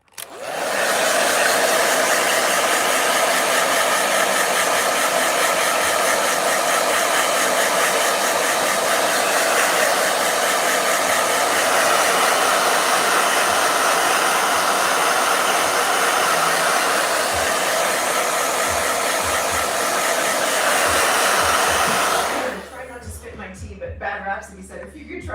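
A blow dryer runs loud and steady at close range for about twenty-two seconds, then cuts off, leaving faint background sound.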